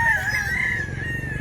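Gilmore gamefowl roosters crow, one drawn-out cock-a-doodle-doo ringing out clearly over a low background rumble.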